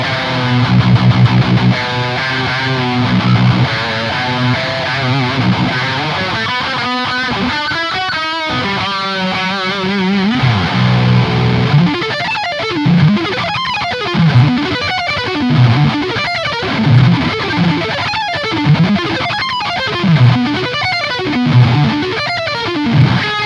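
Heavily distorted electric guitar lead through the JST Toneforge Jeff Loomis amp plugin, with sustained sung-out notes, fast melodic runs and rhythmic chugging, loud and up front with no voices.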